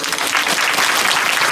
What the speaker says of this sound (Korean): 우리 하나님께 박수 영광 드립니다.